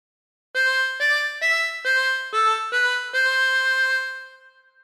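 Harmonica playing a phrase of Waltzing Matilda as a run of seven distinct blown and drawn notes in steady succession, bright and reedy, alone with no voice and a clean ending.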